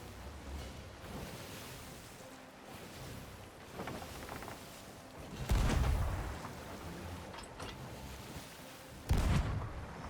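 Ship cannons boom in the pirate video game Sea of Thieves, two distant heavy blasts rising out of steady ocean waves and wind, fairly faint in the mix.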